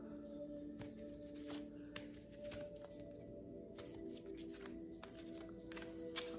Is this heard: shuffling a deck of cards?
yes